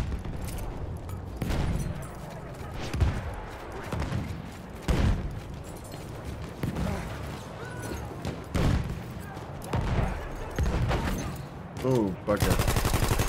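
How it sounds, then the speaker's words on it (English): Machine gun fire in the World War I shooter Battlefield 1, bursts of automatic shots recurring through a busy battle mix with explosions, and a player's voice speaking briefly over it. "I've got a big boy machine gun."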